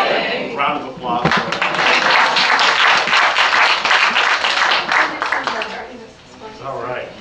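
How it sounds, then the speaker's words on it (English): A morning talk show audience claps in a lively round of applause that swells quickly and holds, with voices talking over and around the clapping before it fades. "Round of applause."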